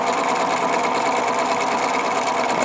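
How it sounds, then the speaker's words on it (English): A Husqvarna Viking 950 sewing machine stitches with metallic thread, a steady, close, continuous whirring hum with fine rapid needle chatter, running alone without pauses. "I shall continue stitching to finish this row of stitching"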